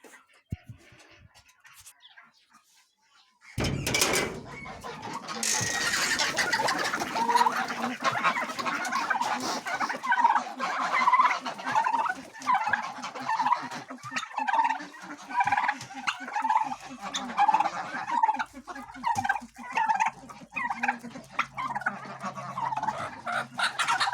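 Turkeys and chickens at a morning poultry feeding, with geese and a hen with chicks nearby, break into a loud, continuous chorus of gobbling and clucking after a brief quiet start, close and busy throughout.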